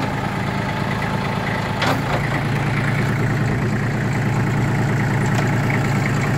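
A Kubota ZL1-275 tractor with a front loader idles steadily at close range, a low continuous rumble with a couple of brief higher clanks partway through.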